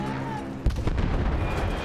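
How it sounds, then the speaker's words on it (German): An artillery gun fires a single shot in the Battlefield 1 video game: a sudden heavy boom cuts through a low engine hum, followed by a lingering rumbling roar as the blast echoes away. "Und wir mal wieder einen Schuss abgeben."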